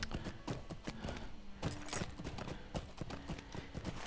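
Horse hooves clip-clop in a steady trotting rhythm in Lord of the Rings Online, crisp repeated hoofbeats at moderate volume with no talking over them.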